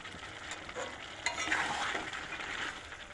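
Chicken with kasuri methi sautéing in a pan, a soft sizzle with light scraping stirs, quiet and close, with no voices.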